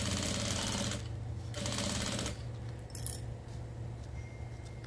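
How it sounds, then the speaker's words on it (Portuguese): Sewing machine with a teflon presser foot stitching plastic onto zippers for a bathroom toiletry bag, two steady bursts of rapid mechanical whirring, close up, then a quieter hum with light clicks. "eu costurei os três plásticos nos três zíperes"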